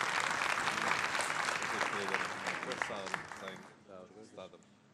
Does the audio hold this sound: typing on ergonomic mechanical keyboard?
no